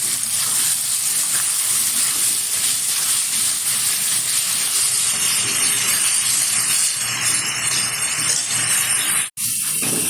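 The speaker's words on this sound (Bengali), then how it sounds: "এই যে দিয়ে দিচ্ছি রসুন আর পেঁয়াজ বাটা, ভালোভাবে কষিয়ে নেব।" Garlic and onion paste sizzles loudly in hot oil with potatoes, a steady broad frying hiss that runs continuously and stops abruptly near the end, with no talking.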